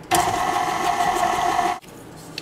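A stand mixer with a paddle attachment whirs steadily as it slowly combines dry ingredients into cupcake batter, a loud, close motor hum with rhythmic beating that stops abruptly near the end, leaving quiet.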